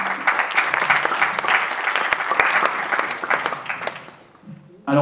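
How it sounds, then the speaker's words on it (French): An audience applauds an athlete at a press conference for the EDF Alpe d'Huez triathlon. Loud, dense clapping fills most of the stretch, then thins and fades before a voice starts at the very end. "applaudissements s'il vous plaît pour Dave Delow"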